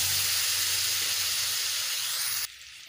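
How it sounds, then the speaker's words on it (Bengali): Potatoes frying in hot oil in a home kitchen, giving a steady, loud broadband sizzle and hiss that runs unbroken before dropping abruptly quieter near the end, with no talking. "এবারে ওই তেলেই আলুগুলোকেও ভেজে নেব।"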